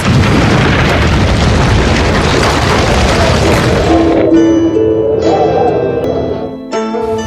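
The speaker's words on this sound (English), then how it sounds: "The cannon caused a massive avalanche of snow to fall on the Huns." A loud, deep cannon boom opens into a long, roaring rumble of a snow avalanche cascading down, gradually thinning out toward the end.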